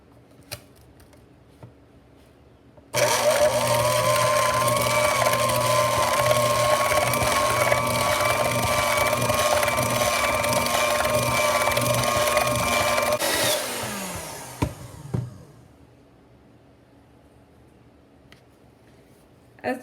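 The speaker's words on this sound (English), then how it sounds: "we have creamed together the butter and sugar" An electric mixer creams butter and sugar in a mixing bowl, a steady whirring hum that runs for about ten seconds, then spins down and stops.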